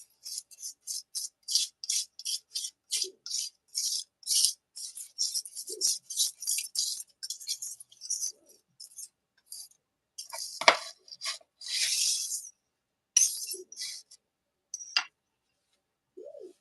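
A small glass muller grinds red pigment into paint, giving a steady run of short raspy scrapes in quick rhythmic strokes, loud and close, with brief pauses and a few longer grinding passes.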